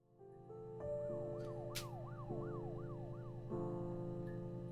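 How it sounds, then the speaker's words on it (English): Distant emergency sirens wail outside, faint but clear, in a repeating rising-and-falling sweep that swells over several seconds. "Did y'all just hear those sirens?"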